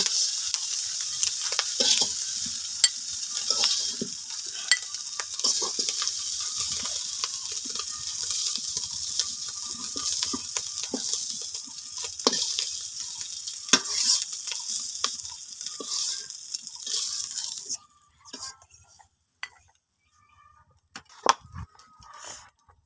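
Shrimp sizzle and crackle steadily in hot oil in a pan, with occasional stirring scrapes, before the frying noise drops away near the end.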